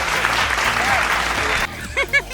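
Dense, steady clapping from a group rewards a right answer and keeps going for most of the moment. It cuts off abruptly and a voice starts speaking.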